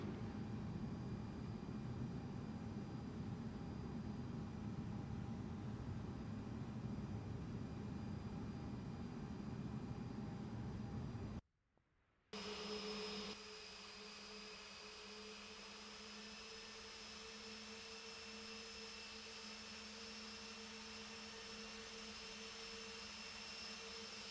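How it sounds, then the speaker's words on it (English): Boeing 767 jet engines spool up in X-Plane 11, a steady broad roar with whining tones; after a brief dropout near the middle the pitch steps up and the drone continues, loud and constant, with no talking. "Add some throttle to get us moving"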